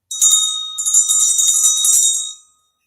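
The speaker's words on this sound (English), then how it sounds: "I'm gonna ring the bell." A bell rung once during a spiritual reading session gives a clear, bright ring that sustains steadily for about two seconds before fading out, with no voices.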